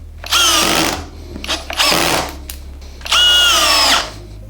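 A SKIL DL6300D 12-volt flip drill runs at maximum speed in three loud, close bursts, each spinning up, whining steadily and stopping, with short pauses between.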